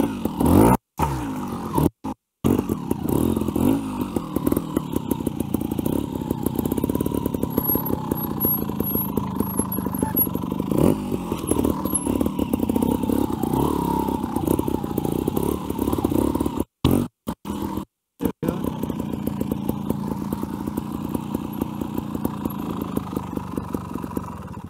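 Trials motorcycle ridden through a section, its engine close and loud with uneven revving, blips and idling putters, clattering over obstacles, the sound cutting out briefly several times.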